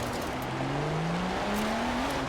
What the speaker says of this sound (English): The original engine and this engine kind of sounds a little bit about alright